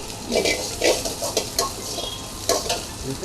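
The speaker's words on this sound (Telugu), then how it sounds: "ఇప్పుడు పచ్చిమిర్చి వేసుకున్నాం రెండు పచ్చిమిర్చి" Two green chillies sizzle and fry in hot oil in a pan, with a steady crackling hiss and several sharp stirring scrapes at the metal, close and loud.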